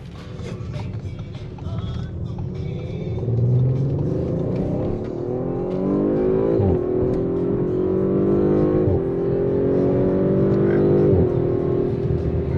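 A car with an Audi Quattro all-wheel-drive system accelerates hard from nearby, its engine note rising through the gears in a loud, climbing drone with shifts, a passenger voice briefly heard over it.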